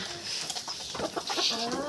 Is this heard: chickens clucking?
yes